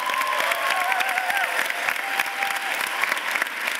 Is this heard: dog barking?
no